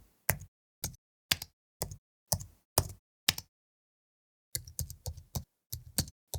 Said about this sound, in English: And there's some new keyboard sounds as well.